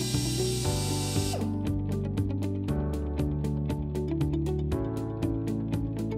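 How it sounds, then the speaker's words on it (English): A power drill fitted with a 1/8-inch bit bores a pilot hole for a stairway safety gate, with a steady whirring run, a sharp shift partway through, then rhythmic bursts, close and clear with no talk. "using a drill with a 1/8 diameter drill bit,"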